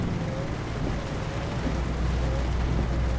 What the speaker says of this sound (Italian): Mai vista così tanta pioggia?